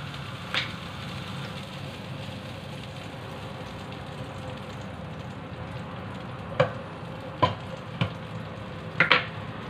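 Eggplant frying in oil in a pan for tortang talong, a low steady sizzle with a few sharp clinks and pops toward the end, no voices.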